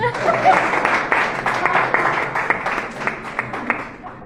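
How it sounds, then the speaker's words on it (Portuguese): A church congregation claps in a burst of applause that gradually thins out, with a voice briefly heard beneath it. "Aplausos."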